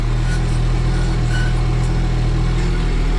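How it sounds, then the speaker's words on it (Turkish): A New Holland TT4.65 tractor works a field with a steady, low diesel rumble throughout, close and unchanging, with no voices. "Zaten traktörün sesine aşina alıyorsunuz bir süre sonra."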